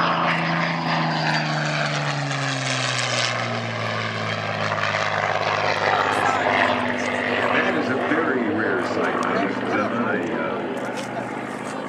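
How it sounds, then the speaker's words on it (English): Supermarine Spitfire WWII fighter plane flying at an air show, a loud continuous propeller engine drone with shifting pitch as it passes, with crowd noise around it. "Supermarine Spitfire, still flying."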